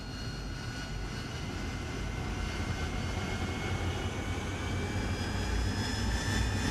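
An AV-8B Harrier jet taxies in DCS with a steady, close turbine whine and a rising high-pitched tone over a continuous low roar, holding even and unbroken throughout with no talk.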